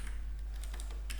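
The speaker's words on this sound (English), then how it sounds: "Let me just learn how to type here, because I just got a new keyboard." Light, sparse clicking from typing on a new computer keyboard, several scattered keystrokes close by over a low steady hum, with no talking.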